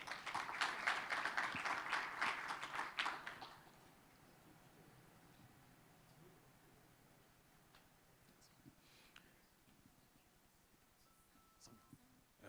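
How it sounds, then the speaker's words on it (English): A brief burst of audience clapping for about three seconds, then quiet room tone with a few faint ticks. "A round of applause for them,"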